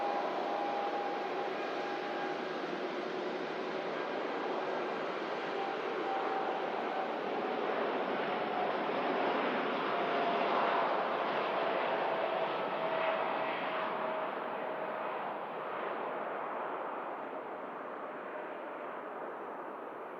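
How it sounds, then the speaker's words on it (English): A Gulf Air Boeing Dreamliner airliner departs Manchester Airport, its jet engines making a steady broad roar at a distance that swells gently and then slowly fades. "This is the Gulf Air Dreamliner heading back out to Bahrain."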